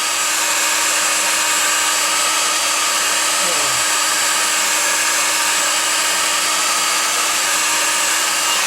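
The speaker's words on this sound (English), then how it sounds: "I just put the blower on for a minute, heat gun, just to cool it off." A heat gun blows a steady, even stream of air to dry glue on a handmade gundog single game holder, a continuous close hiss that holds level from start to finish with no voices.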